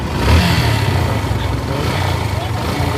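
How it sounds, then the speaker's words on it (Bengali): A Yamaha FZS Fi V2 motorcycle engine runs close by, a steady low rumble holding even throughout without clear revs. "এখন দেখাবো আপনার ইঞ্জিন সাউন্ডটা"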